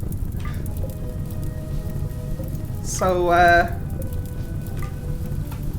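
Steady rain falls across a RimWorld colony, a soft constant hiss and patter running the whole time, with a brief voice and a short tonal game chime partway through.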